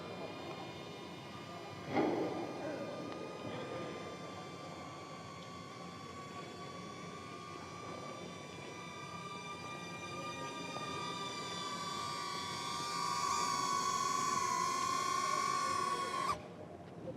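A DJI Neo mini drone flying a circle at about six meters, a steady tonal propeller whine with a sustained hum that grows somewhat louder toward the end before cutting off abruptly.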